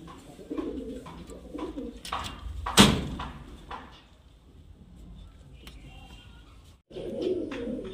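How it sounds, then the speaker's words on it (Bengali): Pigeons, including a Madras male, coo softly in a loft, low murmuring calls repeating close by, broken by a sharp knock or slam partway through and a few muffled clatters. "এখানে একটা ম্যাড্রাস নর পায়রা আছে"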